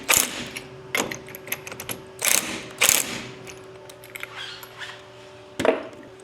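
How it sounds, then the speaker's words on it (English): A ratchet tightens lug bolts during a rear big brake kit install, with several bursts of sharp clicking separated by pauses, close and fairly loud, over a steady faint background tone. "I'm going to stick a couple lug bolts on it and just go ahead and tighten that up"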